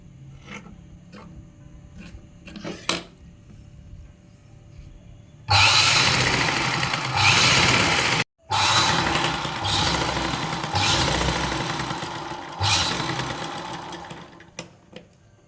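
A sewing machine stitches a coat collar, a loud steady mechanical whir running in long bursts with a brief pause, preceded by a few quiet handling clicks.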